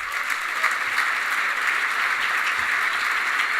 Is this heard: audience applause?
yes